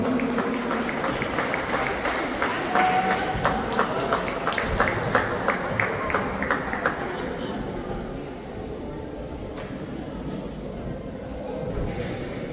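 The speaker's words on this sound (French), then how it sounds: "On les applaudit, merci." A crowd applauds at a fighting match in Tahiti, the Challenge Maco Nena 2024, after a draw between two fighters; dense clapping fills the hall and fades after several seconds, with a voice talking over it.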